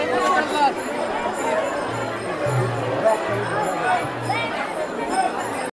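Huge crowd of pilgrims walking in the Pandharpur wari, a dense wash of overlapping chatter and murmuring voices all around, with nearby speech rising above the hubbub.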